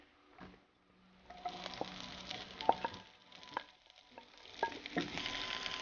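Chopped onion dropped into hot oil for Kerala-style beans mezhukkupuratti, crackling and sizzling close by while a spoon scrapes and knocks against the pan in irregular bursts.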